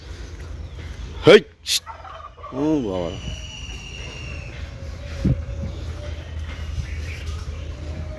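A few short, throaty fowl calls break out in quick succession, then fade into a quiet, low background hum.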